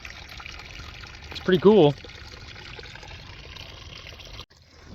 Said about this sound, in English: We definitely got enough water flow to run it though.